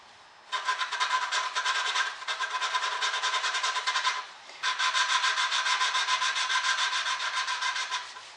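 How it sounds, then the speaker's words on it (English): A close, rhythmic scratching rasps over two long runs separated by a brief pause, as a tool scrapes carbon deposits off a valve from a non-running snowblower engine during cleaning. "You'll hear kind of a scratching sound like that."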